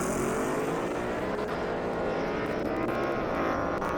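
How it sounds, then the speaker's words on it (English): A Ford Mustang GT and a Toyota Supra launch off the line in an airstrip drag race, continuous loud engine roar with climbing rev tones and layered whine, steady throughout with no speech. "Great launch on that Mustang."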